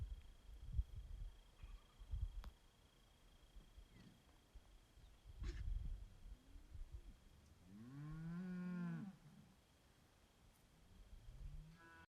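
A single loud cow moo on a ranch rises midway through, surrounded by scattered low knocks and rustling, with a faint shorter low call near the end.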